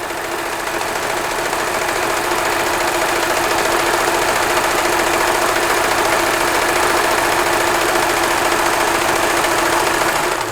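A vintage Kenmore sewing machine sews a close zigzag stitch, giving a loud, continuous, even mechanical hum and rattle with no pauses.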